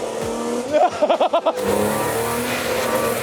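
A car engine running on kerosene or model fuel misfires in a quick series of stuttering pulses, then settles into a steady, rough running drone.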